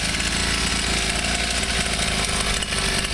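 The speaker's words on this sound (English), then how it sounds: "So for a little 50cc pit bike, they go pretty quick." A small 49cc two-stroke pocket dirt bike engine runs steadily and loud, a buzzing, rattly drone held at a constant pitch throughout with no voices.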